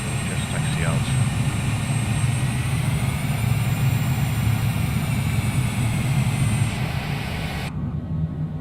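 Honda Jet engines hum while the jet taxis in Microsoft Flight Simulator 2020, a dense, steady turbine drone with a faint high whine that runs throughout before abruptly thinning at the end.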